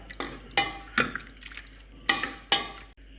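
Cooked tomato and drumstick are mashed in a pot with a utensil, giving about six sharp, clattering strikes against the metal at an uneven pace, close and fairly loud.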